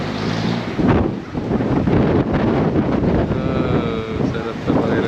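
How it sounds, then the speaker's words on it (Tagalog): Strong wind buffets the microphone at People's Park in the Sky in Tagaytay, a loud, continuous rushing roar with gusty surges throughout. "Sana hindi ganun kalakas yung hangin."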